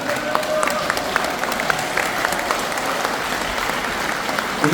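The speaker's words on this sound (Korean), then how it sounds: "여러분들 좀 일어서서 기립박수 한번 보내주시기 바랍니다." A standing audience at a Korean civic lecture bursts into sustained, dense applause, many hands clapping together at close range, loud and even throughout with faint voices mixed in.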